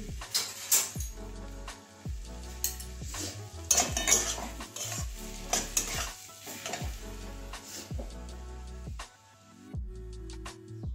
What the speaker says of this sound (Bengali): নামিয়ে একটা প্লেটের মধ্যে বেড়ে দেখাচ্ছি।